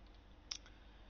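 A single soft computer mouse click on a list, short and faint against a quiet background.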